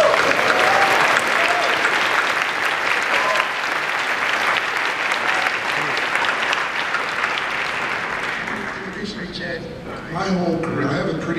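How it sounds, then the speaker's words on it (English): Sustained audience applause for a festival crew member, loud and dense clapping that carries steadily for several seconds before thinning out near the end. "So just a round of applause for Chad."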